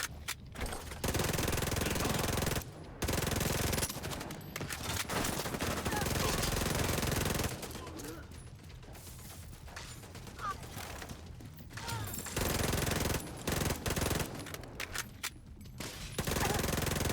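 A deployed automated turret fires in a game, long sustained bursts of rapid gunfire broken by short pauses, loud and mechanical, with some voices between bursts.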